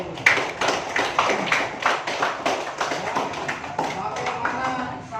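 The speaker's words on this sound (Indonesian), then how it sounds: "kita beri aplaus untuk Aurel dulu." Classroom applause for a student, a short burst of scattered hand claps from a small group, fairly close, with a teacher's voice talking over it.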